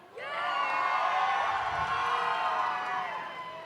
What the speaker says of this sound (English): I want to hear the Red Alliance cheer as loud as they can